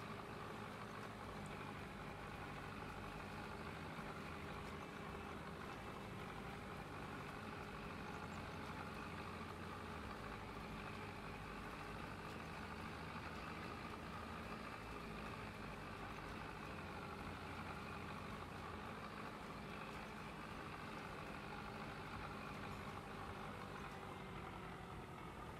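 A Ford tractor engine in the Farming Simulator video game pulling a planter, a steady loud low drone running unbroken throughout with no talk.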